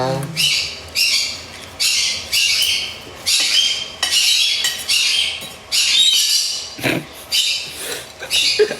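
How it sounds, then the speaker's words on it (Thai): A bird gives loud, harsh squawking calls in repeated bursts close by, about one each second, with brief pauses between them. "เสียงนก"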